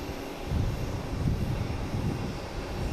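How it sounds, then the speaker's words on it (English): An Icelandair jet taxis toward the gate, its engines giving a low, steady rumble with a gentle pulsing throb, close and fairly loud. "Iceland Air is finally heading to a gate."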